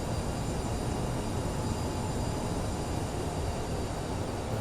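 An Aerosoft CRJ jet in flight in Microsoft Flight Simulator drones with a steady, even broadband cabin roar and a faint high whine, constant throughout and without talk.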